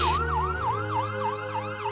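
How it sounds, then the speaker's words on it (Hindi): An ambulance siren wails loud and near, its pitch sweeping up and down in a steady repeating cycle throughout, with a faint engine rumble beneath and no voices. "मुखिया का लड़का राजेश शहर से एम्बुलेंस बुलाकर मुखिया को शहर के बड़े डॉक्टर को दिखाता है"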